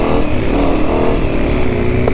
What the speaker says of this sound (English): CRF 100R.